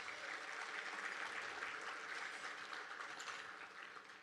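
Audience applause for event sponsors at an economic outlook gathering in a Tucson resort, steady, even clapping from a sizeable crowd heard faintly and at a distance, fading slightly toward the end.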